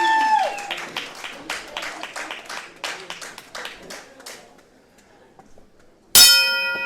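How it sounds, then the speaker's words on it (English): A single bright bell clang rings out at the start of a wrestling match in an arena, loud and sudden after a stretch of crowd clapping and announcer talk. "the opening bell has sounded"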